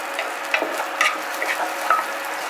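Shallots cooking in a tablespoon of olive oil in a pan, a soft steady sizzle with faint stirring clicks and scrapes, fairly close and alone.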